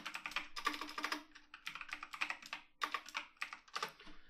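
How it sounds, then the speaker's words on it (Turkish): Mechanical keyboard keys clatter in steady bursts of rapid typing, close to the microphone, with brief pauses between runs of keystrokes and no voices over them. "mekanik klavye sesi sevenler de şu anda bunu dinleyebilir"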